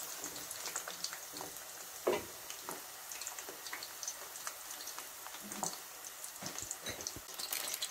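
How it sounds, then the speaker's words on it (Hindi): Sliced eggplant fries in a pan for Sindhi kadhi, giving a soft, steady sizzle with faint crackles and occasional clinks throughout, fairly quiet and with no talking. "बैंगन डाल के फ्राई करेंगे। इसको भी अच्छे से फ्राई करेंगे।"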